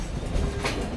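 Mandovi Express passenger train running on the Konkan Railway after leaving Roha in heavy monsoon weather, a steady rolling rumble with faint wheel clatter, heard from on board without any talking.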